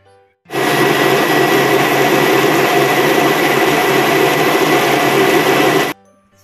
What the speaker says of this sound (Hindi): तो ब्लेंडर में डाल दिया, उसमें डालेंगे एक गिलास जैसा पानी, ठंडा पानी, फिर कर लेंगे इसको ब्लेंड।